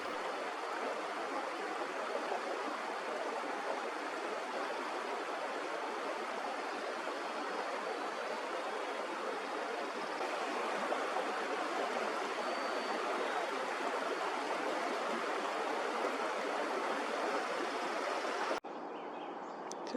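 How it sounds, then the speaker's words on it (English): A creek in Edmonton's Whitemud Valley flows below a lookout, giving a soft, steady rushing murmur that holds evenly throughout with no other clear sounds. "You can see the creek down there."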